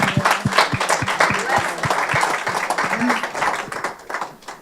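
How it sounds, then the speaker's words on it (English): An audience at a Philadelphia community spotlight event breaks into loud applause for a young woman, with dense, close clapping and a few sharp individual claps standing out before it begins to taper near the end. "Give her a round of applause."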